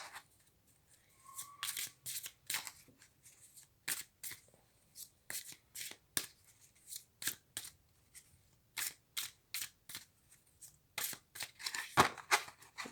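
Tarot cards are shuffled and cut by hand, giving a long series of crisp, quiet riffles and taps in an irregular rhythm, close and alone with no talking.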